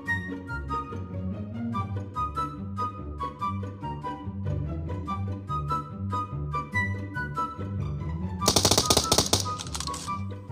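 PUBG Mobile gunfire: a brief, sharp burst of rapid automatic shots near the end, about a second long, loud over steady background music, with no talking.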